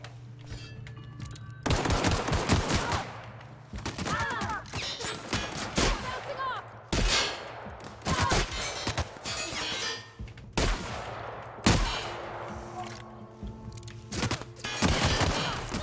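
Repeated bursts of automatic and single gunfire in The Outer Worlds, loud, close shots arriving in clusters over a steady game hum, with occasional voices between volleys.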